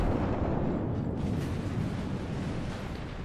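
Heavy shells from enemy cruisers pounding a battleship in the naval game World of Warships, a dense, continuous low rumble of explosions and impacts that stays loud and unbroken throughout.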